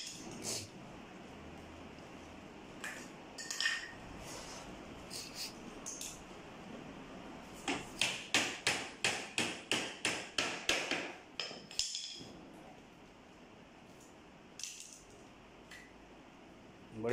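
A screwdriver is worked against a folding door part to pry it loose, making a burst of quick, sharp metallic taps in a steady rhythm, with scattered knocks before and after. No one speaks.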